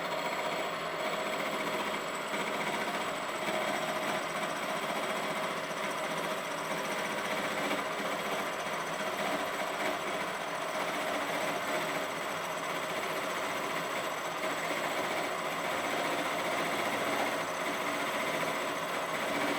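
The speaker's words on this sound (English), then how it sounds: "Now in this case they're milling the grooves into one of the components that makes up the microphone shock mount." A milling machine cuts grooves into a microphone shock mount component in a factory, giving a steady, dense mechanical whir and grinding hum that runs unbroken throughout with no talk.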